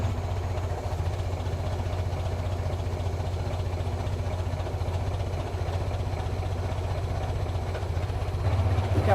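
A steady engine idles low and even after being throttled down, a continuous mid-level rumble with a slight lift in the last second.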